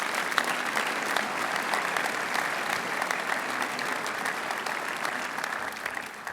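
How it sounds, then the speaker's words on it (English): A school senior prizegiving audience applauds the boarding house leaders: loud, dense, sustained clapping from a large hall crowd, even and continuous throughout with no speech on top. "Give the boarding house leaders a round of applause,"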